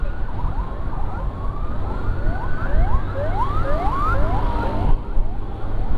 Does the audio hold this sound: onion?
no